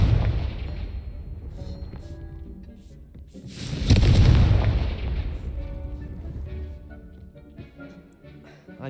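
Rumbling magical spell explosions from the video game Hogwarts Legacy swell into a loud booming burst around the middle, set over a continuous layer of game music and effects.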